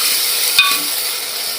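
Dried white peas sauté in a hot pan for an Indian usal, giving a steady, close sizzle with one brief utensil clink near the start. No voices.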